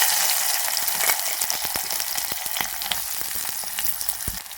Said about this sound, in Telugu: ఉల్లిపాయ మగ్గేంత వరకు ఫ్రై అయితే చేసుకోవాలి